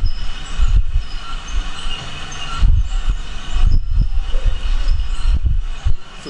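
Reconstructed soundscape built from laboratory machine sounds: a dense, loud, continuous mechanical rumble and hiss with heavy low thuds and a rattling, rolling, train-like texture throughout, no voices.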